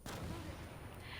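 A barrel is shot and explodes in the Wolfenstein II video game, a short, muffled, rumbling blast heard fairly faintly and without talk.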